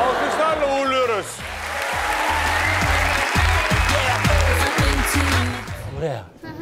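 Audience applause on the Turkish talent show Yetenek Sizsiniz Türkiye, a sustained wash of crowd clapping under loud music with a heavy beat and a host's voice talking over it.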